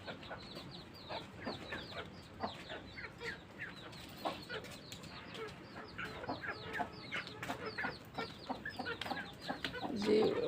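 Chickens cluck repeatedly in short, busy bursts close by, as hens are set down in a home morning routine, with a rooster-like call mixed in and a brief louder sound near the end.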